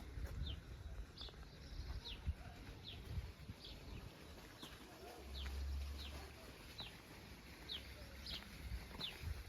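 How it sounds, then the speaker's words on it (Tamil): Birds call in a quiet outdoor setting near a flowering apple tree, a regular series of faint high chirps repeating about every second against soft low background rumble. "பறவைகளோட ஒளி"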